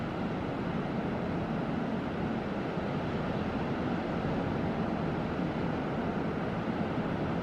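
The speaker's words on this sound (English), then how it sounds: "That is the sound of the waves crashing against the beach." Ocean waves crashing on the beach at Kingscliff, heard as a continuous, steady roar of surf with no voices.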